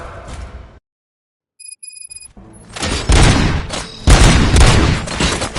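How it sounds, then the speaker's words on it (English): Heavy bursts of gunfire erupt after a brief silence, loud and dense, with a few high electronic beeps sounding just before. "Gunshots? What's going on?"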